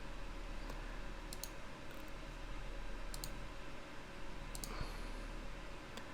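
Computer mouse clicking during 3D work in Cinema 4D with Octane Render: a few sharp, isolated clicks spaced across the clip, fairly quiet, over a steady low hum and hiss.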